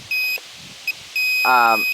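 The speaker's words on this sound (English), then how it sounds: "there is sort of a two-stage beeping, as you can hear here" A Tarot 130 drone's low-battery alarm beeps in short, high-pitched tones, a few separate beeps then a longer one, in two stages, while someone speaks over it.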